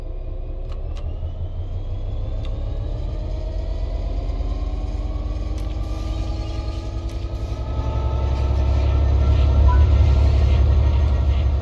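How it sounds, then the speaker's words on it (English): A train in Train Sim World 3 pulls away under throttle, its deep engine rumble and drone building steadily and growing heavier as it starts to move, with faint clanks and hisses on top. "Apply some throttle to get the train moving."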